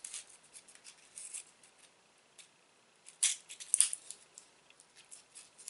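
Scissors snip and crinkle through a plastic snack package from a Japanese snack box, giving a few soft, close cutting sounds with light rustling between them.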